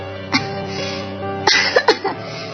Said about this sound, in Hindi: ये खांसी तो जा ही नहीं रही है।